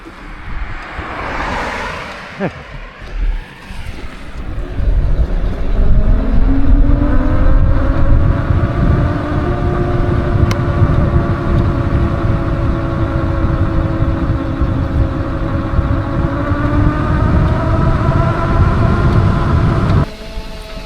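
A vehicle on a park road in Chief Logan State Park, West Virginia, rumbles close by, its engine drone rising and holding steady for most of the stretch before cutting off near the end.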